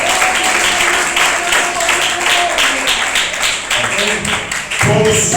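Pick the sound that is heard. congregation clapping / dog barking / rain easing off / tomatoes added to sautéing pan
congregation clapping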